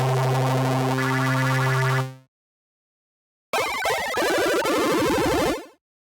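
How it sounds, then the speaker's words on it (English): Commodore 64 SID chip playing a ring-modulated triangle-wave arpeggio with a slide-down effect: a loud, bright, buzzing chiptune tone for two seconds, a pause of silence, then a second burst whose rapid stepped notes sweep downward before cutting off. "The ring modulated triangle with the slide down effect will create a classic space arpeggio tone."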